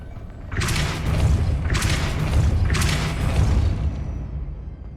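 Depulso spell impacts in the Hogwarts Legacy video game land as three heavy booming thuds about a second apart, each with a brief whooshing burst, over a low rumbling game backdrop.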